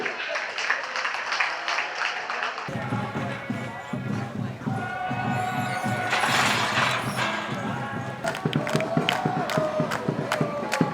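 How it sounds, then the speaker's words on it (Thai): A stadium crowd at a Thai football match greets Port FC players taking the field, a roaring mix of applause and cheering with rhythmic chanting and sharp claps rising through, under an announcer's voice. "ขอเสียงปรบมือให้กับการท่าเรือเอฟซี"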